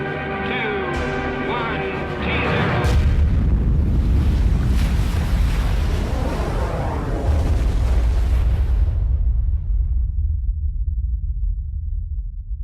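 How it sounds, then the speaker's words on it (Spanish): A thermonuclear bomb blast of about ten megatons rolls out as a sustained, heavy roar that surges and rumbles for many seconds, then slowly thins into a deep, fading low rumble. "La potencia de la explosión es similar a la de 10 millones de toneladas de TNT"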